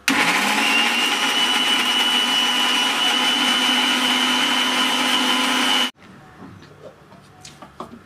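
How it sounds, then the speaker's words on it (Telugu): A kitchen mixer grinder blends green chilies, garlic cloves, ginger and yogurt into a paste, a loud steady whirring drone for about six seconds that cuts off abruptly, leaving faint kitchen clatter. "మిక్సీ పడుతున్నానండి."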